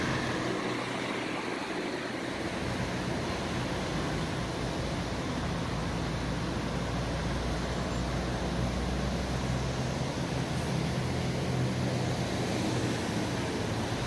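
Road traffic of cars waiting and moving at a stoplight on a foggy morning in Al Ain, UAE, heard as a steady, distant broadband roadway wash with no distinct individual vehicles standing out.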